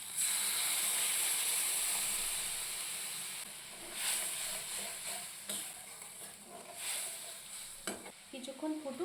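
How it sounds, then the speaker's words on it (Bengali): Water is poured into fried, oil-releasing spice paste in a hot pan for a prawn curry, giving a loud steady sizzling hiss that gradually settles into softer bubbling and crackling. "এখন দিয়ে দেবো পরিমাণ মতো জল।"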